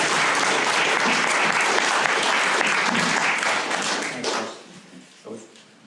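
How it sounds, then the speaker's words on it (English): An audience at an authors' conversation event applauds warmly, a dense wash of clapping that tapers off near the end into a few scattered claps. "Just give him a wee round of applause and warm him up there."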